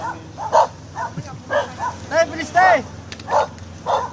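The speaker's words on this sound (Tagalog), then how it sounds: "May aso." A dog barks repeatedly in short, sharp bursts at a steady rhythm, fairly close, while a person speaks briefly over it.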